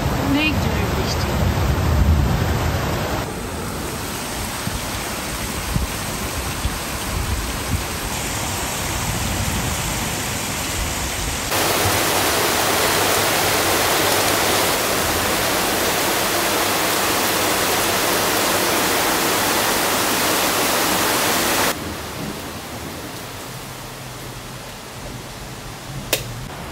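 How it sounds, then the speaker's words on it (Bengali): Very heavy nighttime rain roars in a thick, steady wash of noise, swelling louder midway and then easing slightly, with muffled speech faintly audible beneath the downpour. "অনেক জোরে বৃষ্টি।"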